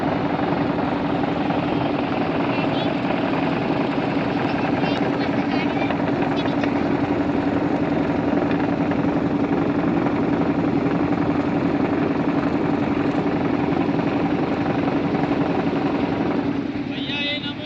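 A boat engine drones loudly and steadily throughout a ride along the ghats of the Ganges in Varanasi, a constant close hum with a wash of water and wind.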